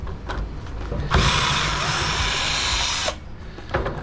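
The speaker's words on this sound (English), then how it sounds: "Take these 2 screws out of there." A power driver whirs steadily for about two seconds while backing screws out of an 1980s microwave, close and loud, with faint clicks and handling noises before and after.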